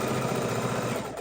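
A sewing machine runs continuously, stitching together pieced quilt rows, a steady, close, fairly loud mechanical whir with a rapid, even needle rhythm and no voices.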